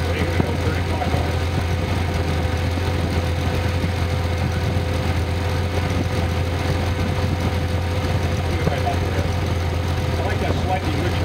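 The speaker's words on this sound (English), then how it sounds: "Slightly richer idle. It comes off idle better now." A Datsun engine on a run stand idles steadily and continuously after a carburetor idle-screw adjustment, now running slightly richer, with a constant low rumble throughout.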